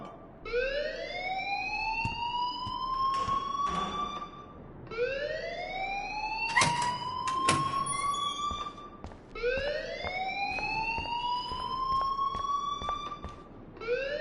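Rising, wailing school alarm in the video game Life is Strange, three long repeated sweeps climbing in pitch, loud and steady, with faint background sounds between cycles.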